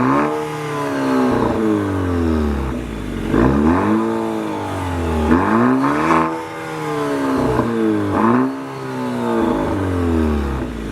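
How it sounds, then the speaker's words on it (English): A 2023 Maserati Grecale Modena's four-cylinder engine revs repeatedly through its dual exhaust, loud and close, with rising and falling pitch in several throttle blips over a steady idle. "This car honestly sounds pretty good for being a 4-cylinder."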